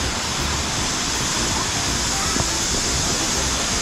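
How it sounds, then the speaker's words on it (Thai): Steady, dense broadband rush of Tad Tayicsua waterfall in southern Laos, constant and fairly loud throughout, with no breaks in the roar. "เห็นน้ำตกแล้ว"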